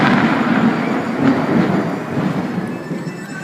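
Thunder rumbles after lightning as rain stops, a broad, loud rolling roar that swells and slowly fades over a few seconds, with no talking.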